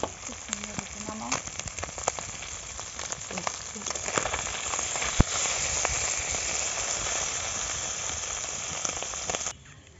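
Fish frying in hot oil in a home kitchen gives a steady, dense sizzle and crackle that continues throughout, with occasional sharper pops before it cuts off near the end.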